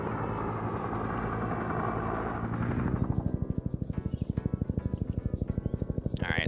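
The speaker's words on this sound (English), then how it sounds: "Alright, so we have a chopper heading in." Helicopter approaching in a Vietnam patrol video game, a loud rumbling engine that turns into a rapid rhythmic rotor chop as it draws near.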